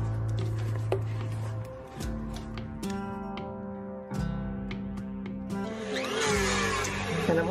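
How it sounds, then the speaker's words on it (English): A blender whirs through pumpkin mousse ingredients with a steady motor drone that shifts pitch several times as the load changes, close and continuous without talk. "And blend that up."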